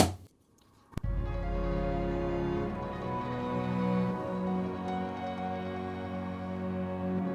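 After a brief hit on a Roland SPD-SX drum pad and a short pause, a dense backing track of layered instruments starts and plays steadily at moderate volume, no voices.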